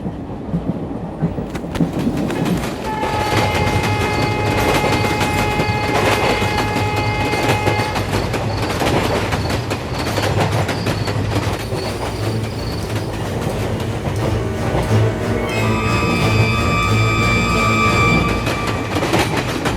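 A passenger train runs on rails toward Mullurkara station, a steady loud rumble with clattering wheels and drawn-out high metallic squeals throughout, and no voices.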